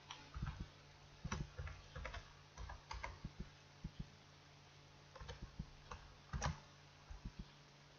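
A Wi-Fi password is typed on a keyboard: scattered light, close key clicks in short bursts with pauses between, faint and without talk.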